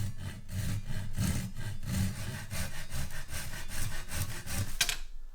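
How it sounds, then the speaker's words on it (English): A Japanese handsaw cuts through a clamped length of tube with steady back-and-forth rasping strokes, close and fairly loud, ending in a brief final scrape before quiet. "So I've got this Japanese handsaw."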